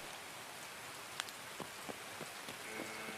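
Rain falling in the video game Escape from Tarkov, a dense continuous hiss of drops on surfaces with a few sharper isolated drip taps, soft and steady without speech.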